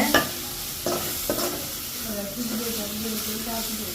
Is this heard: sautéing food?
yes